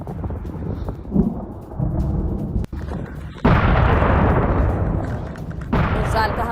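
Heavy blasts from Israeli strikes on military sites in Tehran, a deep rumbling roar that swells into two loud, sudden bursts, with faint voices in the background.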